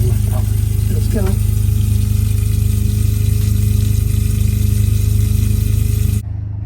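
A boat's generator runs with its raw water lift pump, giving a loud, steady low mechanical drone with a constant hum throughout that drops sharply near the end.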